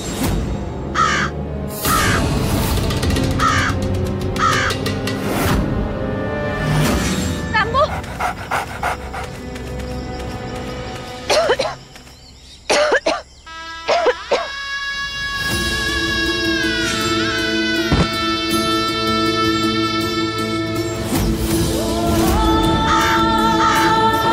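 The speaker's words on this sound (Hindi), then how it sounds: "अब ये कौवा" A crow caws repeatedly, the sharp calls mixed with panting, music and other busy sound, with voices present in a loud, dense mix.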